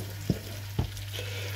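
Grated tomatoes sautéing in a pan for meatball almond sauce, low sizzling under a constant hum with two brief spoon knocks while stirring.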